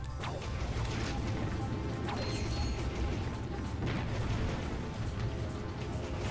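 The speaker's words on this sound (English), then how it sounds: "Should I just hit that with my wrench?" Dense clanking and smashing from a wrench striking things in Ratchet & Clank 2, mixed with mechanical whirring and ratcheting. The game audio is loud and continuous, with repeated metallic hits over busy background noise and no speech.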